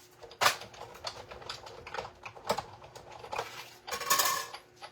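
A die cutting machine cranks paper through in one whole pass, giving a run of sharp clacks and rattling clicks in uneven bursts, fairly close and moderately loud, with no talk.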